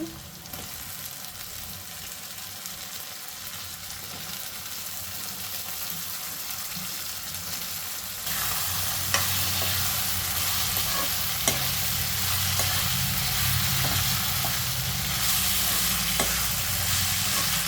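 White eggplant sizzles steadily in a generous amount of hot oil while being stirred, the frying growing louder partway through, with occasional sharp clicks from the spoon against the pan and no one speaking.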